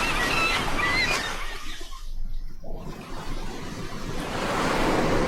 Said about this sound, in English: The ocean is so crazy.